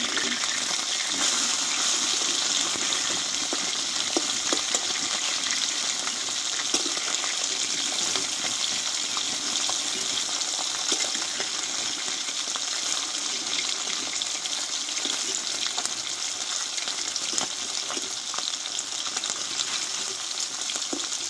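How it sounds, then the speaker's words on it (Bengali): Tilapia pieces frying in hot oil in a pan, a loud continuous crackling sizzle with small pops that holds steady for a long stretch, with no voices over it. "এই পিঠটা ভালোভাবে ভেজে নেব।"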